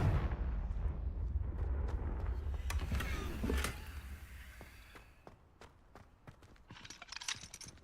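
A fiery Confringo spell bursts in Hogwarts Legacy, a booming explosion with crackling impacts and rumble that fades into scattered sharp pops and lighter effects, with no speech.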